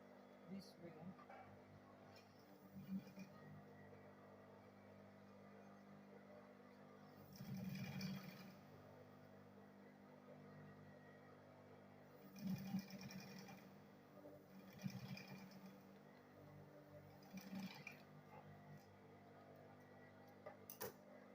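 A sewing machine stitches a double-face bag in several short runs of steady mechanical whirring and ticking, close and moderately loud, with a voice talking in between the runs.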